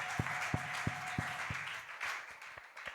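A church congregation at a Sunday service claps in a slow, regular unison rhythm, with sharp claps spaced roughly a third of a second apart over a broader wash of scattered applause.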